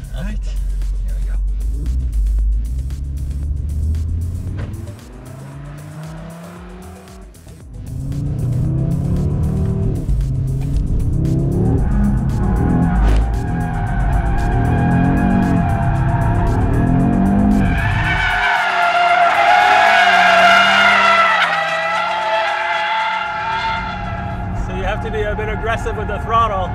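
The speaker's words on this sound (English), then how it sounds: "Audi was keen to let me try this drift mode on a specially arranged drift pad at the wheel of an RS3 Sportback" A 2022 Audi RS 3 Sportback slides around a drift pad, engine roaring and tires squealing in long wavering howls that build to a loud screech near the end, with a voice talking over much of it.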